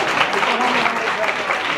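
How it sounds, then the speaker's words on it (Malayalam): Audience applause at a 2024 event, a dense steady wash of many hands clapping at once with faint voices mixed through it, sustained at an even level throughout. "ഒരു കയ്യടി കൊടുക്കണേ."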